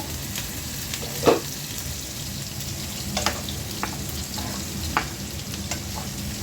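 Bitter gourd fries in oil with chopped onion in a home kitchen, making a continuous, moderate sizzle broken by a few sharp pops and stirring scrapes.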